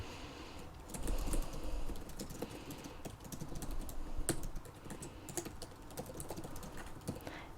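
Steady typing on a computer keyboard, a dense run of close, crisp key clicks with a few louder strokes, continuing without pause.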